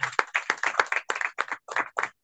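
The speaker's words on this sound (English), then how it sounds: "Please clap for yourselves." Meeting attendees at a Rotary Club of Yumbe gathering clap for themselves in a short, close burst of uneven individual claps from a small group.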